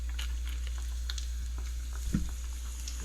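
Eggplant slices fry in a pan during off-grid cooking in Milolii, Hawaii, giving a soft steady sizzle with scattered pops and crackles over a low background hum, with a brief louder clatter near the end.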